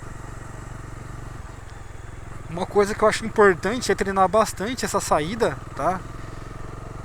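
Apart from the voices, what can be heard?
Bajaj Dominar 250 motorcycle riding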